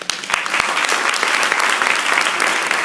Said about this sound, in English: Let's give them a standing applause.